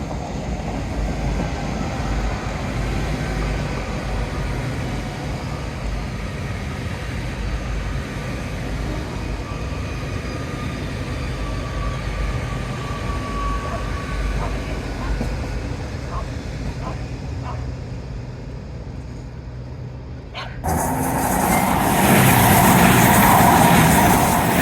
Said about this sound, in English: I think I just heard another train.